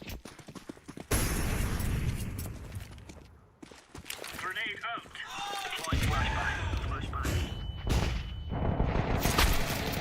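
P250 pistol shots crack in Counter-Strike as sharp, scattered bursts mixed into a busy match. Heavy speech runs over the gunfire.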